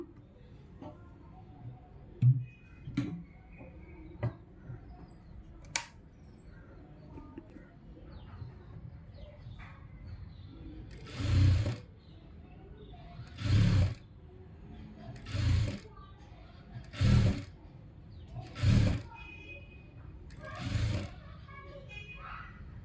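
A sewing machine stitches a blouse sleeve to the shoulder: six short bursts of whirring stitching at steady intervals, fairly close, preceded by soft clicks and handling noises.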